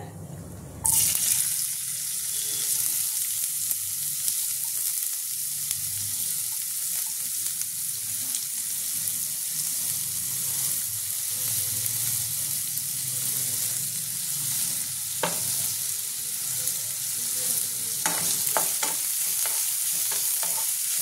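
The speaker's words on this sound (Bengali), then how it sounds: "এটার মধ্যে হালকা লাল করে ভেজে নেবো, বেশি ভাজবো না, হালকা লাল লাল করে ভেজে নেবো।" Chopped onions frying with a pinch of asafoetida in a pan give a steady, fairly loud broadband sizzle that runs throughout, with occasional scrapes and clinks of stirring; no one speaks.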